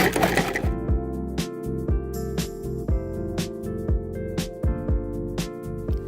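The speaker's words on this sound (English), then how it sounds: "we're just going to pulse it a little bit" A food processor pulses raw chicken into chopped meat, a steady motor whir broken by repeated sharp bursts and restarts, loud and close with no talking.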